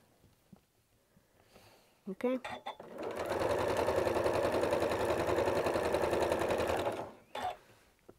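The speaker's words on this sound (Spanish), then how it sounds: "estoy cosiendo una línea recta" After a few short starts, a sewing machine runs steadily for about four seconds stitching a straight seam on a heart-decorated mug coaster, loud and close, then stops with a brief final burst.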